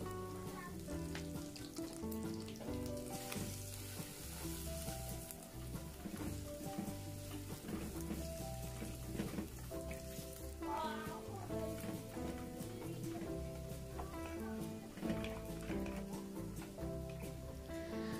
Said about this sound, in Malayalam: അപ്പം നമ്മുടെ വെളുത്തുള്ളി ഇഞ്ചിയൊക്കെ നല്ലപോലെ മൂത്തിട്ടുണ്ട്